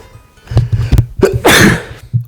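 A sound-effect sneeze in Bloons TD Battles, triggered by a wrong button, with a short sharp inhale and wind-up followed by one loud, breathy burst.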